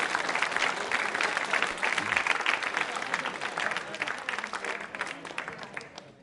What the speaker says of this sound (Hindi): तालियां बजाइए ऐसी परंपराओं के लिए